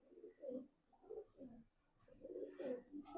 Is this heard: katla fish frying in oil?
no